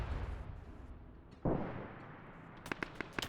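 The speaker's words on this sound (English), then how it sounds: "cannons firing" Cannons fire in a WW1 video game: one heavy boom lands over a rumbling battlefield, then a quick series of sharp, distant-sounding cracks follows.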